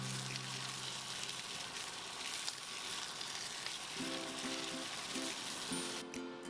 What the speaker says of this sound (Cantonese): 再用中慢火慢慢煎到佢兩面金黃脆卜卜